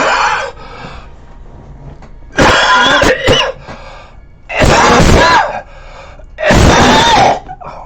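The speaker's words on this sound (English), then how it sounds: "Cough, cough, cough." Three loud, harsh coughing bursts ring out close to the microphone at roughly two-second intervals, each a rough throaty fit, with quieter breathy noise and faint background sounds between them.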